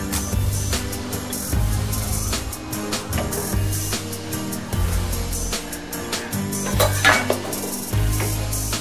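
A spoon scrapes and clanks against a metal pot while dal khichdi is stirred with salt. Irregular metallic knocks and scrapes come close and fairly loud, with short pauses between bursts.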